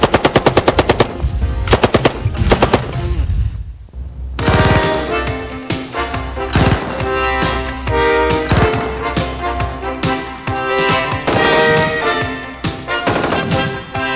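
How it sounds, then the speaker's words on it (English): An M60 machine gun fires loud full-auto bursts, sharp rapid reports in quick strings with ringing echoes between them, close and dominant throughout. "43¾-inch overall length and 23-pound weight of the M60 make it unacceptable as an individual weapon"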